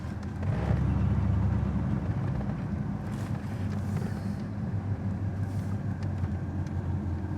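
A 1970 Corvette Stingray with a 454 LS5 V8 pulls through its gears from inside the cabin, a deep loud rumble surging at the start then droning steadily with wind noise, no talking.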